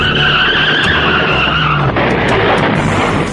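A car skids with loud, sustained tire squeal and engine roar in a movie chase scene sound effect, close and continuous throughout.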